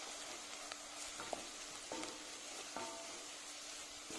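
Chopped onions and a couple of spoonfuls of flour frying together in a pan for a courgette gratin, a faint steady sizzle with a few soft clinks and scrapes of stirring, heard close with no talking.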